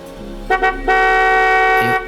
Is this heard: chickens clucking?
no